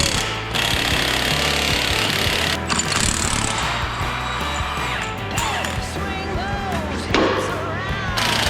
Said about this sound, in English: We're taking the U-bolts off again.